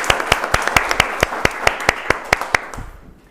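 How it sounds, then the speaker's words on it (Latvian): Applause for the hosts at Lūznava Manor in Rēzekne municipality, Latvia: crisp, distinct claps from a modest group in a quick even rhythm, close and clear, then fading out at the end. "aplausi saimniekiem"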